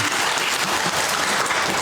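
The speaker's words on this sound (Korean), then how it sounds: "다시 한번 하나님께 박수로 영광 올려드릴까요?" A church congregation at a Sunday worship service breaks into loud, dense applause after a hymn, steady and close with no speech over it.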